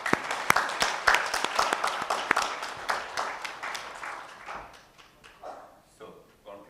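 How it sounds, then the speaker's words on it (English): Applause from a conference audience at the close of the concluding session, fairly sparse clapping that starts dense and thins out into a few scattered claps by the end. "So let me propose to give a big round of applause to all of them."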